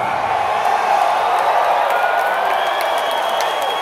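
Concert crowd at a show in Charlotte screaming and cheering, a loud unbroken wall of shrill voices and scattered clapping filling the space throughout.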